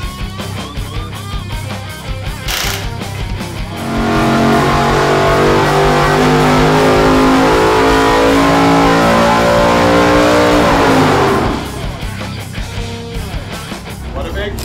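A 1,100 horsepower big-block race engine for Bonneville revs up hard on a dyno with its supercharger belt slipping, a loud sustained roar with a squealing whine that holds for about eight seconds before dropping back to a rough idle, with voices around it.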